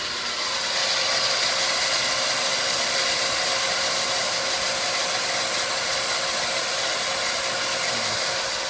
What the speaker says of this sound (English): The pump is producing about 65 psi.